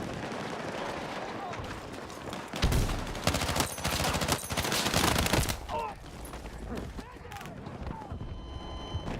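Dense gunfire and explosions from the Battlefield 6 video game, including a frag grenade blast, with rapid bursts, booming impacts and continuous loud battle noise throughout.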